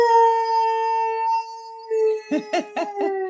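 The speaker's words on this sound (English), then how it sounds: "Was that your dog?" A dog howls in long, sustained, wavering notes that rise and hold, then breaks into a few short yips, loud and close, with no talk over it.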